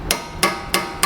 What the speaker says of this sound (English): That groove is where this nut needs to be hammered down to.